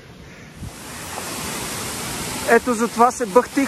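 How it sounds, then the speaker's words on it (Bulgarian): Skoka waterfall near Teteven, Bulgaria, roars as a steady broadband rush that builds and holds, with someone speaking over it near the end. "Това е водопад Скока на 670 метра височина, на около 3 км от Тетевен."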